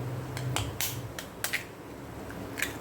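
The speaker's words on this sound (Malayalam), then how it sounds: "മുട്ട പൊട്ടിച്ചിട്ട് കൊടുക്കാം." Eggs crack against an edge and drop into a hot, oiled pan: several sharp, dry taps in an uneven sequence over a low sizzle, close and clear, with no talking.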